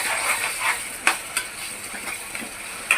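Fresh ginger paste sizzles in hot tempering oil with a steady, bright hiss, punctuated by a few sharp clinks and scrapes as it is stirred in the pan; close and moderately loud, with no talking.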